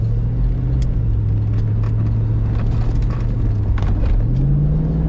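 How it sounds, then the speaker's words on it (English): A 1996 Chevrolet Corvette Collectors Edition convertible with an automatic transmission accelerates with the top down. Its engine note holds a steady drone, then climbs in pitch near the end over rumbling road noise. "Great acceleration in this Corvette."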